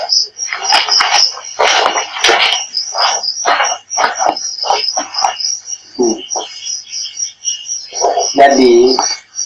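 A frog croaks repeatedly in short, loud pulses, with insect chirps and people talking at night mixed in, the calls close and rhythmic through most of the stretch.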